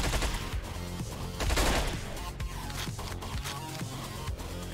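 Rapid gunfire in Hotline Miami 2, a dense string of loud shots and bursts spread across the clip over a steady music bed.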